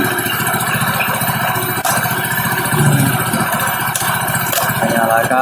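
A motorcycle engine idles steadily and loudly close by, with a fast even rattling pulse, during a check on a charging system that keeps draining the battery.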